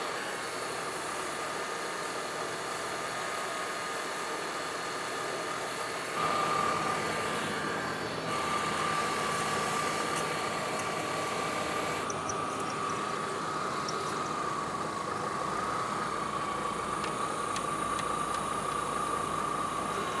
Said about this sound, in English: with this vehicle running on a flat level surface and at normal operating temperature